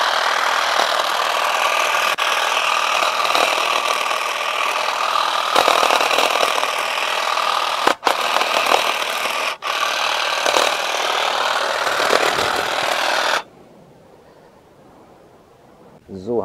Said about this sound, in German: Wir sind jetzt hier bei Ästen, ich sag mal, die haben gerade mal 1 cm, die sollte er also locker durchkriegen.